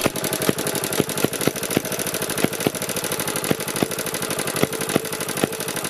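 A BSA 300 watt generator's small petrol engine runs roughly after starting, with a loud, steady chugging drone broken by sharp, irregular knocks and thumps, close to the microphone with no voices.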